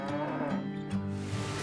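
Cattle mooing on a farm, a deep drawn-out low call followed by a second moo, heard close and alone with no talk.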